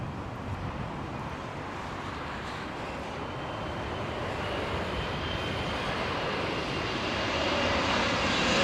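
A WestJet airliner roars at Heathrow Airport in high winds, its engine noise broad, continuous and slowly growing louder as it draws nearer.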